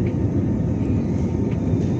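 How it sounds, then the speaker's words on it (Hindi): A passenger jet on a Bhubaneswar to New Delhi flight races down the runway for takeoff, heard from inside the cabin as a steady, loud, low engine roar and rumble with no voices. "विमानटी रनवे रे खूब जोर रे"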